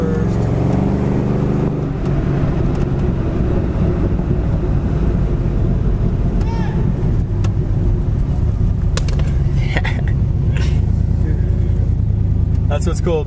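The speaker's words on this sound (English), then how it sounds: "I'm gonna go ahead and go down through the gears a little bit. Shift it down to first." A 1965 Chevy Chevelle convertible with headers runs while driving, a steady low engine rumble with wind buffeting the microphone as it is shifted down through the gears toward first, and someone speaks over it.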